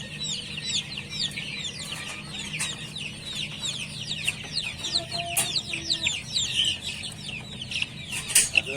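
A flock of chickens clucking, with the high, busy cheeping of chicks layered over it, continuous and fairly close.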